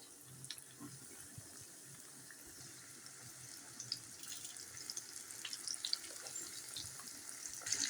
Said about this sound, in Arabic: ودلوقتي بعد ما البانيه سخن، بعد ما الزيت سخن، هنزل بالبانيه.